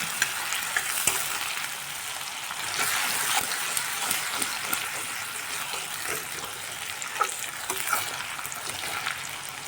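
Spice masala with a spoonful of turmeric frying in hot oil, a steady close sizzle with bursts of spattering and occasional stirring scrapes, no voices.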